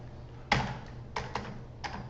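Computer keyboard typing of a chart title, with a burst of quick keystrokes followed by a few short clusters of taps, close and clear over quiet room hum.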